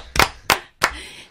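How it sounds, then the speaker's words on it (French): Three sharp, loud hand claps, evenly spaced and close to the listener, as a small group applauds a game winner. "Bravo, on applaudit."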